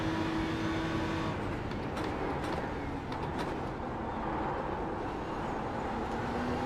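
Race cars roaring around Summit Point in the iRacing sim, a loud dense engine drone with shifting whine as the leading cars close in, continuous and near, no talk over it.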